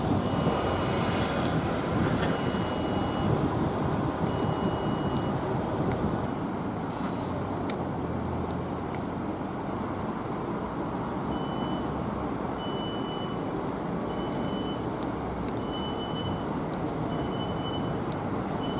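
A cargo vehicle backing up at Heathrow Airport, its reversing alarm repeating evenly spaced high beeps over a broad, steady airport and traffic rumble.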